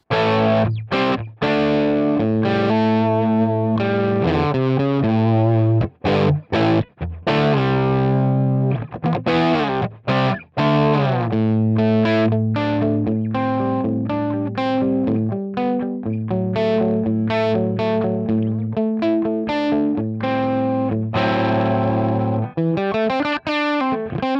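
Distorted electric guitar through a Line 6 Helix Brit Plexi Nrm amp model, playing chords and riffs with a crunchy tone, loud and continuous with brief pauses between phrases.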